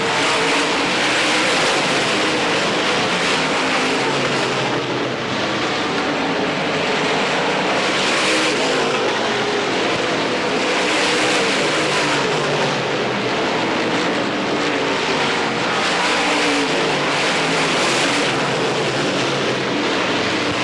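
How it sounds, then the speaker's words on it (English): Dirt-track race cars at Pennsboro Speedway during the 1990 Hillbilly 100, a dense steady roar of several engines with no gaps, heard at a distance and loud throughout. "Rodney Franklin is bearing down on Charlie Swartz over in corner 3 and 4 as they battle for that second and third spot"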